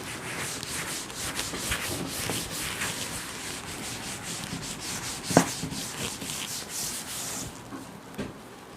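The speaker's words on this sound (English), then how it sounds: "I am rubbing this part." Writing on a board being rubbed out during a lecture, a continuous close scrubbing with rhythmic back-and-forth strokes and one sharp knock midway.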